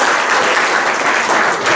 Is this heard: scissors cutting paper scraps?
no